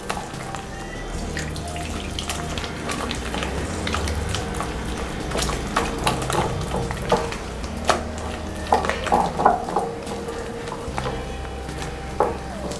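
Bajji batter for stuffed mirchi bajji being stirred in a bowl to a medium consistency, with steady wet mixing and scraping sounds and irregular clicks and taps from the utensil, fairly close and continuous.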